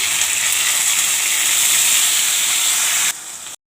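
Ginger, chili and cumin pastes hit hot oil in a pan with a loud, dense, continuous sizzle that drops off sharply just before the end, with no voices.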